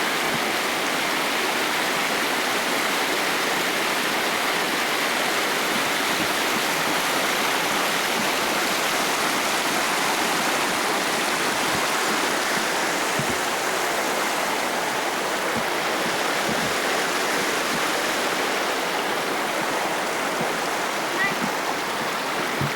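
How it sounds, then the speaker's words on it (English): Rushing water from a Yosemite waterfall, a steady broadband roar that holds constant throughout, heard from a distance with no talk over it. "Well, the top of the waterfall, the top's way out there."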